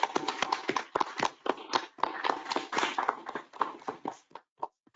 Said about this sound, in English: Can we give our staff a round of applause, please?